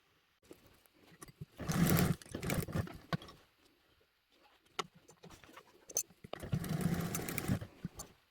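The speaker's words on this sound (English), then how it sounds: "we're going to head back over to the sewing machine and we're going to baste these 2 down" Sewing machine basting two fabric pieces together in two loud running bursts, with quieter handling sounds of the fabric in between and no talking.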